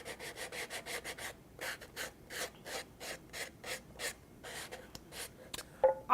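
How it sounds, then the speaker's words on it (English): Quiet, rhythmic scraping as a small sanding block is rubbed around the rough cut edge of a metal can, a dozen or more short even strokes with brief pauses between them. "I'm going to take a small sanding block and I'm just going to go around and lightly sand it down."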